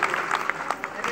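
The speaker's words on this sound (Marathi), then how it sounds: "एकदा शबरीसाठी टाळ्या वाजवा बरी." Audience applause for Shabari during a devotional Ram Katha gathering, a soft, fairly distant patter of many hands clapping for about a second under a faint murmur of voices.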